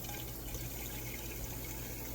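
Water runs steadily into a terracotta olla in a garden, a soft continuous pouring hiss, faint and even throughout.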